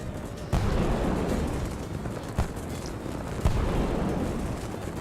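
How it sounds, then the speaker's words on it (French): Explosions in the video game Totally Accurate Battle Simulator, a few deep booms over a rumbling battle din, fairly loud and close together. "il me semble que ça explose"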